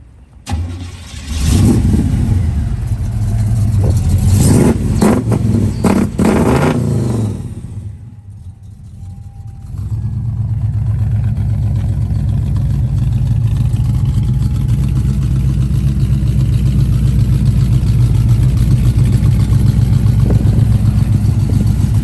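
A 1968 Chevrolet Camaro engine cranks and catches after brief revving, cuts out for a moment, then settles into a steady, loud idle that continues to the end.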